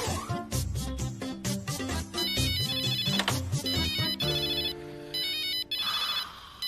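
A mobile phone rings loudly with a melodic electronic ringtone playing continuously with no talk over it, as a wife's call comes in.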